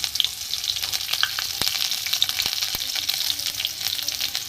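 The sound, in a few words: chopped garlic frying in cumin tempering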